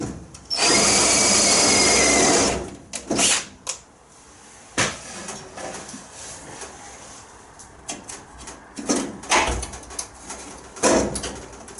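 Drill cutting out spot welds on an Austin Mini body during rear companion box removal: one loud sustained whir of about two seconds, then short bursts, pops and clunks of metal work.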